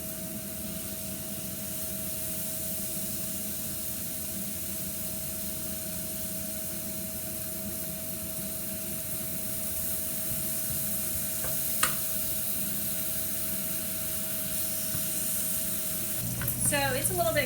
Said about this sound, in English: now we're gonna have this sizzling noise.